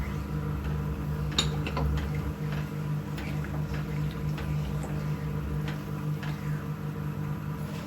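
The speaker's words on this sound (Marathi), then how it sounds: "हे बघा पाण्याने ना उकळी आलेली आहे." Water comes to a boil in a pan while Bombay halwa is being made, producing soft continuous bubbling with faint ticks and small pops, close but quiet, and no one talking.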